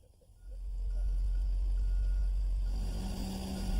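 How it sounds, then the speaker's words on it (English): A tree spade truck reverses with a deep, loud engine rumble that swells and holds steady, while faint backup beeps repeat high above the motor. "We're going to dig this tree using a tree spade."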